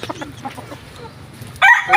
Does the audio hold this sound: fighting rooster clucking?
yes